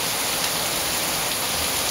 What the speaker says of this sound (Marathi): रात्रभर पाऊस पडला आणि आत्ता सकाळच पुन्हा सुरुवात केली